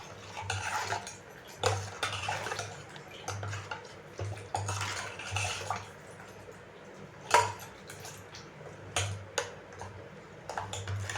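A ladle stirring a buttermilk mixture in a metal pot for mor kulambu, repeated scraping and clinking strokes in an uneven rhythm over a low steady hum, close and moderately quiet.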